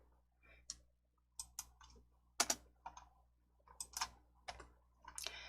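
Computer keyboard typing in a word-processing exercise, sparse individual key clicks and taps in an irregular rhythm, close and quiet in an otherwise silent room.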